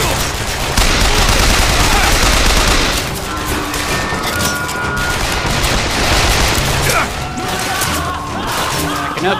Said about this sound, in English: I got my machine gun back. Fully upgraded one.